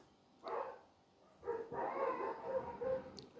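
Neighbours' dogs barking, several barks and yips heard from a distance at moderate loudness, in two bursts with a short pause between them and the second burst longer.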